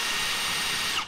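A power drill drives a fuel transfer pump, giving a loud, steady whine with no break through the whole short stretch.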